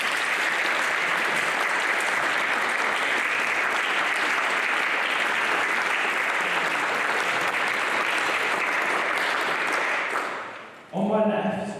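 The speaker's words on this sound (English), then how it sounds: "Please can we give them a round of applause." Debate audience at a charity debate claps steadily and loudly for about ten seconds, then the applause fades out and a voice starts speaking.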